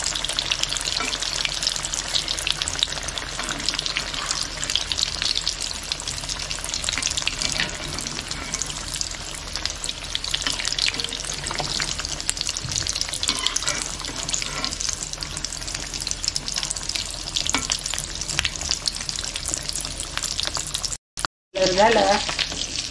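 Bread rolls deep-fry in hot oil on a low gas flame, a dense, continuous bubbling sizzle that fills the scene nearly unbroken, close and steady, with a brief cut near the end.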